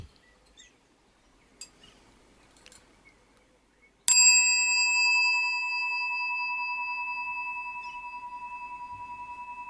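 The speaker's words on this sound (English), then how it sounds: "I think I'm going to ring the bell." A single bell is struck once after a quiet pause, ringing out clear and bright and then fading slowly over several seconds in a still room.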